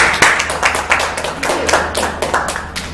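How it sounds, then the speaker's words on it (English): A small seminar audience claps for a speaker, a close run of distinct, slightly uneven hand claps lasting about three seconds with a faint voice beneath. "let's give her a round of applause"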